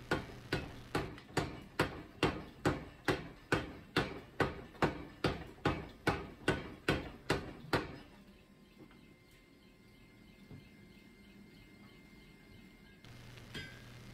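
A hammer strikes hot steel on an anvil while forging a bolo blade, about sixteen loud, evenly spaced ringing blows in steady rhythm, then the strikes stop and a quiet lull follows.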